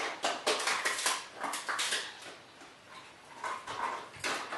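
A dog at a humane society behavior evaluation gives short whimpers and yips in scattered bursts, moderately close, with some clattering in the room and no talk.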